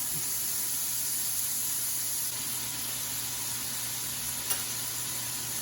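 Chorizo sizzles on a Blackstone 17-inch E-Series electric griddle with a loud, steady, close hiss and faint stirring scrapes, and no voices are heard.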